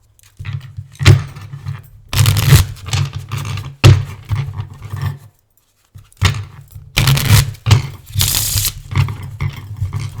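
A tarot card deck is shuffled in repeated bursts of crisp riffling and sliding, separated by short pauses, heard up close.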